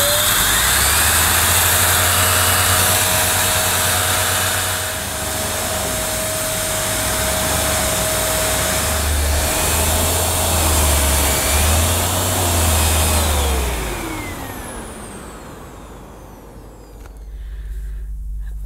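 A Vax Power Reach handheld vacuum cleaner with its nozzle detached runs with a loud, steady whirring motor whine that dips and swells slightly, then cuts off near the end, leaving quiet.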